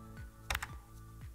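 Quiet clicking of keys on a computer keyboard, a few soft taps with one brief, slightly louder cluster in the middle.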